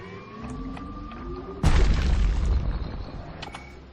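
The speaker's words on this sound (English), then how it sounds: "Hand grenade goes He's wise to boom!" Loud game-world hand grenade blast in Bastion: a sudden low boom that erupts after a quieter stretch of ambient tones, then rolls off in a rumbling, crackling tail.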